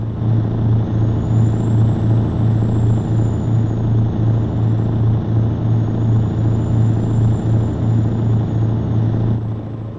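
Heavy truck engine droning steadily in traffic in the American Truck Simulator game, a loud continuous low rumble with a faint high whine above it, holding level for the whole stretch before easing slightly at the end.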